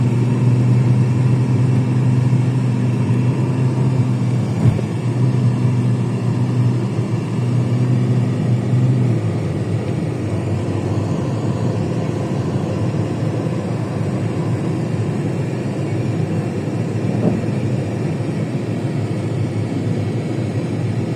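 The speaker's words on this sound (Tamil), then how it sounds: "ஆனால் இங்கேயும் பார்த்தீங்கன்னா டிராஃபிக் இருக்கு" Steady highway traffic near Sharjah, with continuous engine and tyre rumble from passing vehicles, a close idling hum in the first half, and occasional louder passes over a constant broad wash of road noise.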